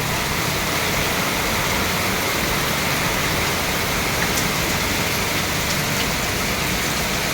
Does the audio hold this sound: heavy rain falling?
yes